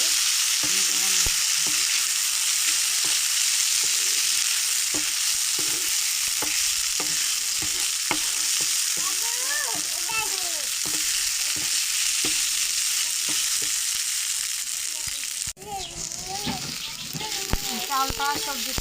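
Rice and vegetables frying in oil in a pot for a mixed-vegetable pulao, with a steady close sizzle and repeated scraping stir strokes, while someone talks over it and a voice chimes in.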